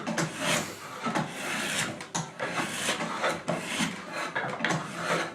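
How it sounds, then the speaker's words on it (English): A curved draw knife shaves wood during barrel hollowing at a cooperage, making repeated rough rasping strokes that are close and fairly loud, each pass separated by short breaks, with no talking. "He's using a curved draw knife."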